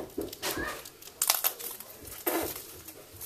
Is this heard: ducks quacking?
no